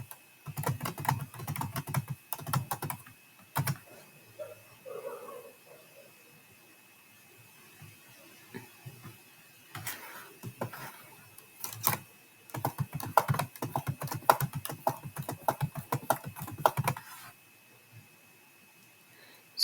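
Rapid bursts of key clatter on a computer keyboard as a dummy card number is entered on a restaurant food-ordering website, with quiet pauses between runs of typing; the clicks are crisp and close.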